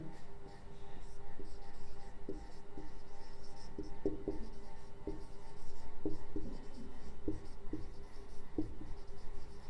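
Writing during a class 10 physics lecture on spherical mirrors, a series of short scratchy strokes and taps in an irregular rhythm, close but fairly quiet.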